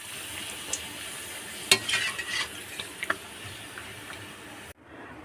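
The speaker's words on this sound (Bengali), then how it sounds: "এবার পাঁপড় ভাজবো।" Papad fries in hot oil with a continuous close sizzle and occasional light scrapes and taps of a utensil, cutting off abruptly near the end.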